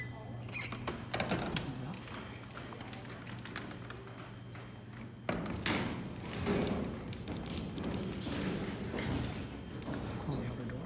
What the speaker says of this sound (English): Close the outer door.